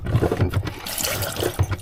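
Water is hand-pumped from a small sink faucet inside a Capri camper, giving short gurgling splashes and trickles in a quick, uneven rhythm close to the microphone.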